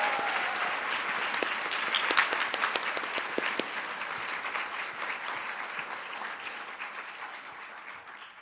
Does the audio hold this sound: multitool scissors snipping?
no